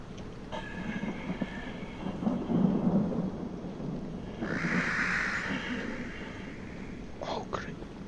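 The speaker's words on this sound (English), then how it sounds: "Thunder and lightning." Thunder rolls through a thunderstorm in a horror video game, a deep rumbling swell under steady rain hiss, with a brighter burst of noise midway and sharp crackles near the end.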